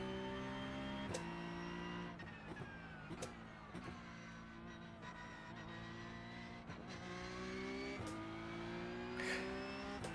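Race car engine in iRacing, a steady droning whine with rising and falling revs and sharp gear-shift breaks, fairly faint and heard without talk.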